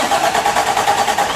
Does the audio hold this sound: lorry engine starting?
yes